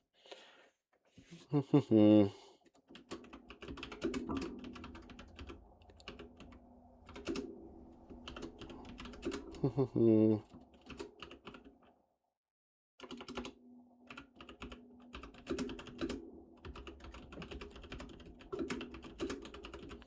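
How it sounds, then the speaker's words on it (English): Rapid clacking of a computer keyboard in bursts with short pauses, close and fairly loud, alongside a few quick metallic rattles. "my keyboard's really loud"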